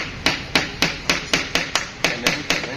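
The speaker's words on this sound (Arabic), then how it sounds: "هتدق لي هنا مسمار في الخشبه دي كده" A hammer drives a 5 cm nail into wood in a carpentry workshop, with about nine evenly spaced, sharp ringing blows close up and no talking.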